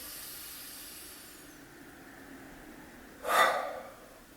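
Deep breathing during a stretching session for stiff hips, thighs and back: a soft, airy background breath, then one strong, close exhale that swells and fades near the end.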